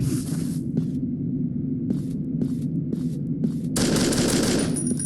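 Gunfire in the Siren Head horror game: a few separate shots spaced a second or so apart, then a sustained burst of rapid fire, all over a steady low electrical hum.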